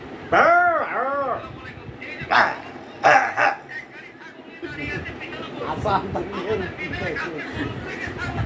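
Voice imitating a dog barking, a few loud woofs near the start, then scattered shouts and lively chatter from several people close by.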